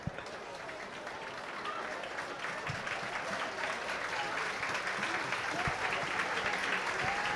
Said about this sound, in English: Rian Hanley getting a warm round of applause from the Wesley supporters